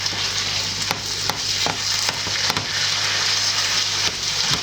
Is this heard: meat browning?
yes